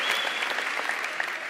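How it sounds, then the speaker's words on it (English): Sustained applause from a large audience at a University of South Africa spring graduation ceremony, steady dense clapping that fills the hall without pause, no voices standing out. "May you give them a round of applause."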